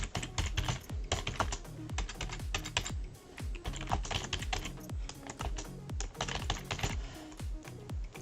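Rapid typing on a computer keyboard, a dense run of crisp close clicks and clacks with brief pauses, steady for several seconds with no voices.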